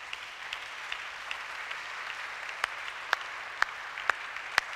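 A church congregation applauds together during a Sunday worship service, producing a steady, dense wash of clapping with a few sharper, louder claps standing out near the end.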